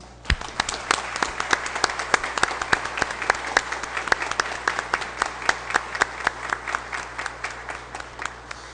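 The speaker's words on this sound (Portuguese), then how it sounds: "peço a todos que façamos uma saudação ao pavilhão nacional com a salva de palmas" A round of applause rings out at an official council meeting, offered to salute the national flag: a small group claps steadily in sharp, closely spaced claps, fairly near, with no talk over it.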